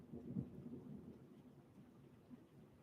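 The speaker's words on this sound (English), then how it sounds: "Wow, that thunder." Distant thunder rumbles low and soft, with a deeper roll early on that fades into a quiet, lingering murmur.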